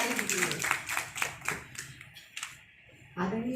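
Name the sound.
audience applause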